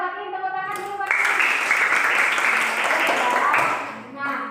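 A primary school class in Indonesia bursts into applause for a pupil, a burst of many hands clapping together for about three seconds, with a teacher's voice heard before and after.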